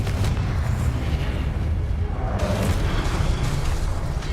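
A fire spell blast in the Hogwarts Legacy video game, heard as a loud, dense rumbling roar of booming, explosive bursts that fills the whole clip without a break.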